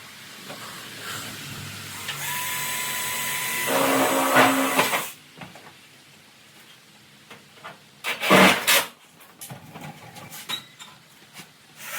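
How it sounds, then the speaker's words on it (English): A power drill drives self-tapping screws into a rusty truck's rocker panel, whining loudly for a few seconds, followed by scattered metallic clunks and handling noises. "I am going to run a few self-tappers in place, just to hold it where I want it to be"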